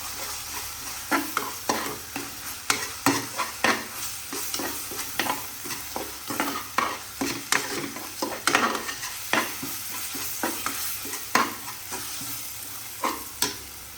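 Onions with ginger garlic paste frying in a pan for mutton curry, stirred with a spoon in repeated scraping strokes over a soft continuous sizzle, close and fairly quiet, with no talking.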